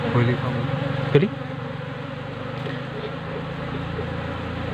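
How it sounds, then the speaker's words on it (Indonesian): Honey bees swarm around a wooden hive box used for beekeeping, a steady close insect buzz running through the whole stretch with a brief louder knock near the start. "jadi untuk lebah ini sudah mulai berhamburan, sudah mulai pulang lagi ya ke dalam kotak budidayanya"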